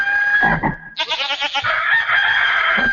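Short synthesized animal samples triggered from a Skoog tactile music controller: a bleating goat call followed by a loud rooster crow, played back to back with no talk.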